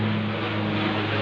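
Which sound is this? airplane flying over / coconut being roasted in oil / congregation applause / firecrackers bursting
airplane flying over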